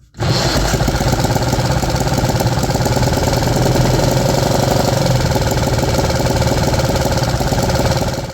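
A 3D printed engine runs and idles with a shaking carburettor, a loud, steady, rough mechanical chatter that kicks in almost at once and holds throughout, close and dominant.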